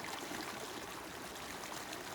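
Water flowing steadily along a creek branch swollen after rains: a close, dense, continuous rushing and burbling with no pauses.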